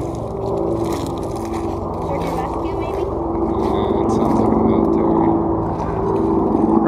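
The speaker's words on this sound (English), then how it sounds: "That sounds like that helicopter that I told you about that was in the river." A military helicopter passing over a river makes a steady low droning rumble that swells slightly midway, heard beneath people talking.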